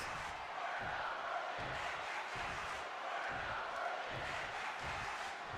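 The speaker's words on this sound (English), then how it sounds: "I love how the crowd is chanting, "We're not worthy."" A live wrestling show crowd chants in a rhythmic, repeated cadence, a broad roar of many voices with regular pulsing beats, heard from within the arena and steady throughout.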